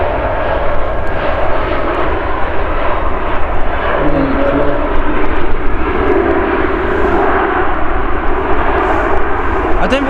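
Fixed-wing aircraft landing on a runway at Manchester Airport, a loud, steady engine roar heard from the airfield's south side, filling the whole stretch with constant broadband noise, with voices talking faintly underneath.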